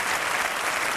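A TV studio audience applauds during a music show, a dense, even burst of clapping that stays loud for the whole second.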